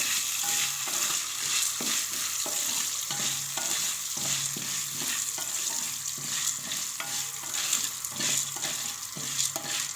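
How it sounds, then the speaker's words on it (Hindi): Popcorn cooking in a pan on the stove gives a dense, continuous crackling sizzle with scattered sharp pops, close up, over a soft tonal melody in the background and no speech. "ये फूटना शुरू हो जाए तो हमने फिर इसको कवर कर देना ऊपर से और फिर हम पकाते हैं।"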